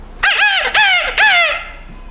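A forest officer's voice imitates the call of a grey junglefowl, giving three loud, close, crowing phrases in quick succession, each ending with a falling note, and then falling silent.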